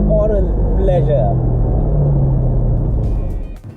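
Porsche 718 Boxster sports car engine revving loudly with a deep, steady rumble that holds for about three seconds before dropping away, with talk over the start.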